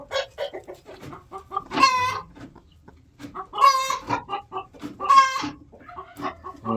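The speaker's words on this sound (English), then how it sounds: "it sounds like one's laying an egg" A hen clucks loudly in bursts of repeated cackles, three strong rounds with quieter clucks between, as one lays an egg in a nesting box of a mobile egg coop.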